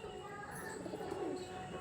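Pigeons coo softly in low, throaty warbles among faint chirps from other birds, fairly quiet and close by, with no clear speech.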